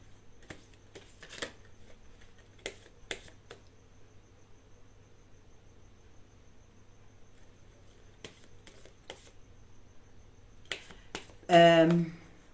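Tarot cards riffled in a quick, close burst near the end, following a mostly quiet stretch with scattered soft taps and handling sounds.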